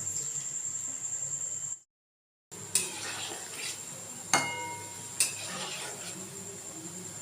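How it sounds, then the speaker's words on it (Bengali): Palm fruit fritters (taler bora) frying in a pan, a steady broad sizzle with a few sharp utensil clinks and scrapes against the pan after a brief silent gap. "বড়া ভাজি একদম গরম গরম"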